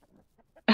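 A chicken in The Isle survival game gives a few faint clucks, then one short, loud squawk at the end.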